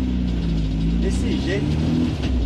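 Volkswagen Voyage car driving, its engine a steady mid-pitched hum with road rumble heard from inside, while people talk over it.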